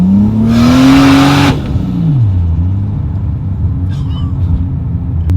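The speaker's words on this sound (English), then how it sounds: "It's like this Chuck Norris kick that wakes you up and you are flying down the road" A single-turbo Toyota Supra making 575 HP accelerates hard, a loud rising engine roar with a rushing burst that drops off after about a second and a half, then settles into a steady lower rumble.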